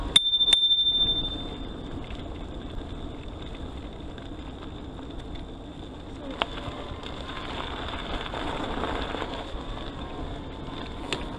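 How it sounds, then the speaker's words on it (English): A bicycle bell on a Riese & Muller Tinker compact Bosch e-bike rings once, a bright ping at the very start, followed by steady riding and wind noise on a trail. "perhaps I need a louder bell"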